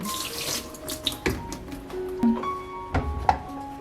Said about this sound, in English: pour the mixture into the washing machine.